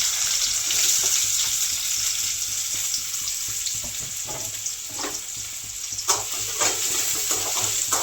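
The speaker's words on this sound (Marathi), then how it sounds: "आता तेल गरम झालेलं आहे, त्यात आपण हा कांदा टाकूया" Chopped onion dropped into hot oil sizzles and crackles steadily, a dense broadband frying hiss with occasional spoon clinks and stirring scrapes, close and continuous with no talking.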